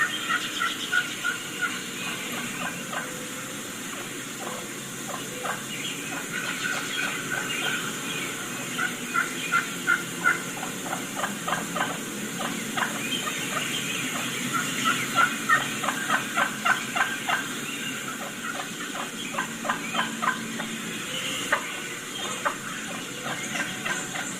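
Wild turkeys calling in a recording: soft, repeated clucks and purring yelps, fairly faint and far off, building into quick clustered runs over a constant hiss.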